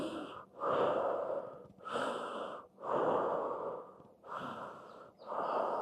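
Deep breathing during a fascia exercise class: six slow, close breaths, each a long airy swell separated by brief pauses, steady and unhurried with no talking.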